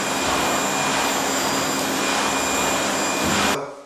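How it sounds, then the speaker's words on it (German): A vacuum cleaner runs at a loud, steady roar with a constant whine, then cuts off abruptly near the end. "Staubsauger."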